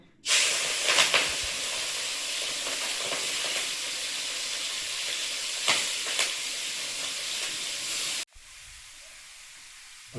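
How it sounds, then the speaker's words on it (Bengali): Prawns frying in hot oil give a loud, steady hiss and sizzle for about eight seconds, with a few brief louder bursts, then cut off abruptly into near quiet. "এখন চিংড়ি মাছগুলো ভেজে নেবো।"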